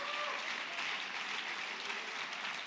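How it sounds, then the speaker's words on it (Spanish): Church congregation applauding during a Sunday missionary celebration service, a dense, steady wash of clapping that fills the whole stretch at a fairly loud level. "Fuerte el aplauso al Señor."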